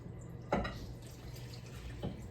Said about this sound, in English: I am going to really rinse it well in my raw spring water